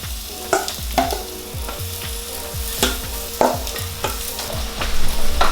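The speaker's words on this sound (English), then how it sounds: "go ahead and add some oil to your pan, generous amount. We're just gonna go ahead and drop this down." Food sizzles in a generous amount of hot oil in a pan, a continuous close fry with a fast rhythmic series of crackles and pops throughout, no talking.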